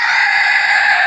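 A naked-neck chicken gives a sustained, agitated call, loud and close, with nothing else audible.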